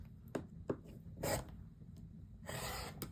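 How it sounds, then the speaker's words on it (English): Quilt block fabric is trimmed in a quiet indoor sewing setting: a few soft, scattered cutting and rasping strokes, short and faint, followed by a longer scraping pass near the end. "Do some more trimming with this one."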